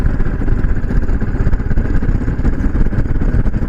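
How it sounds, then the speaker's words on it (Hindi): A motorbike engine drones loud and close in a jungle, a steady rough mid-range rumble with rattling clatter throughout and no speech. "एक आध बाइक आ रही है जंगल में"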